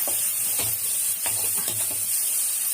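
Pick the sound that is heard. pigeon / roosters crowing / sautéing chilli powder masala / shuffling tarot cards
sautéing chilli powder masala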